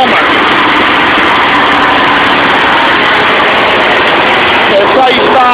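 An off-road tractor engine runs in a garage with a loud, constant, buzzy drone that stays close and steady throughout, with a voice speaking over it.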